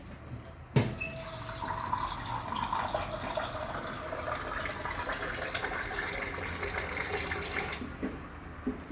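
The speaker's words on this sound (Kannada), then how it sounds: "ಅದ್ರೊಳಗೆ ನೀರು ಹಾಕಿ." Water is poured into a glass for lime juice, a continuous close splashing trickle that runs for several seconds before stopping.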